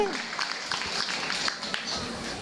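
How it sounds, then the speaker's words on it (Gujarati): Applause from an audience at a drama-based teaching presentation, a short burst of scattered clapping from a small group with voices mixed in. "બે ત્રણ તાળીઓ તો પડો"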